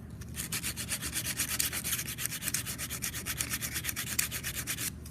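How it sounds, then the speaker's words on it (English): Sandpaper rubbed by hand across a surface in fast, even back-and-forth strokes makes a loud, close scratching rhythm that carries on steadily for several seconds without pause. "because the sandpaper kind of tends to fold over, and just sand the top"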